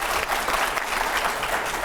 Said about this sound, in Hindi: लेकिन ताली बजाइए।